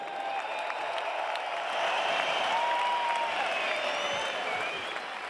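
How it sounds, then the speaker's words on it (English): Boxing arena crowd applauding after an IBF title fight ended by TKO in round 11, a dense roar of clapping and cheering with faint whistles, steady and large-sounding. "can we IBF World please have a Champion. round of applause for these two world-class warriors?"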